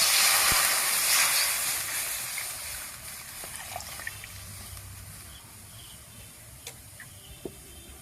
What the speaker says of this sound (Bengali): এই যে এবার কড়ার মধ্যে